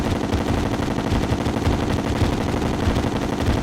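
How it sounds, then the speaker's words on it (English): The Vortex Beater fires in Terraria as a loud, dense, unbroken stream of rapid shots that continues throughout with no pause. "First of all, the Vortex beater, awesome gun."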